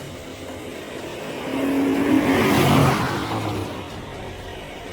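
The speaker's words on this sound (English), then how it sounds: "The sound of an approaching engine turns out to be nothing more than oncoming traffic" A car engine approaching on a bridge at night, swelling from a distant rumble to a louder pass in the middle, then fading back into steady background noise.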